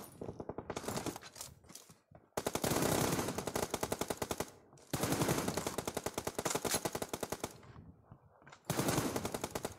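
Rapid automatic gunfire in a shooter video game comes in several loud, sustained bursts separated by short gaps, each a fast rattling string of shots.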